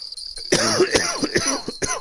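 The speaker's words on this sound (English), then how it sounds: "I mean to cough in the mic." A single sharp cough lands close and loud on a microphone, followed by a brief throat-clearing rasp, with no talk around it.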